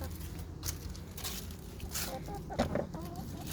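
Chickens in a coop give a few close, short clucks over a steady low background hum, lasting only a few seconds.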